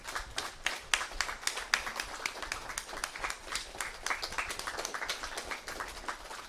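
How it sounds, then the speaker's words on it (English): A standing ovation at a Sunday satsang gathering at a gurukula, with sustained dense applause from the audience for a performer, steady and continuous for the whole stretch with no voices over it. "Give a long ovation,"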